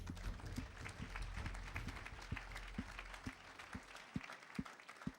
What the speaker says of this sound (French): on l'applaudit tous les 5.